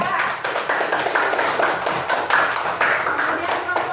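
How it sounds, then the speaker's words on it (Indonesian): Classroom applause for a student group: rapid, dense hand clapping from many children, loud and sustained for several seconds with voices mixed in. "Tepuk tangan untuk kelompok 3."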